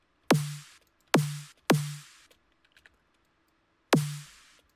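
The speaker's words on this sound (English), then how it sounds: "now you have your first snare made in Kick 2." A dubstep snare made in the Kick 2 plugin hits four times, each a sharp loud crack with a short tonal body that quickly decays, spaced unevenly with a longer pause before the last hit.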